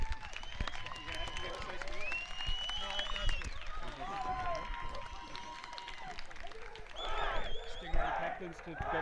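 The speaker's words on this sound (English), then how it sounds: "if you'd like to give the Gold Coast Stingrays one more round of applause" Crowd applause at a gridiron football presentation for the Gold Coast Stingrays, steady clapping and cheering mixed with a public-address voice and whistles over the full stretch.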